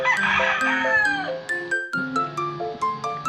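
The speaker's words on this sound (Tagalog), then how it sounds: "Tapos may mga manok panabong rito." Fighting roosters in a store crow and cluck, with overlapping calls early on giving way to a series of shorter, regularly spaced calls, loud and close.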